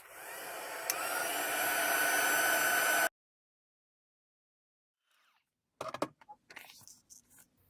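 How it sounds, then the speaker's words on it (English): Heat gun blowing hot air over a paper craft piece, a steady loud broadband rush for about three seconds that cuts off abruptly, then silence, followed by brief clattering handling noises. "I'll bring in my heat gun."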